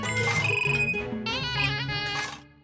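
A phone rings with a bright, tonal electronic ringtone that warbles in a repeating pattern, loud and close, then cuts off near the end.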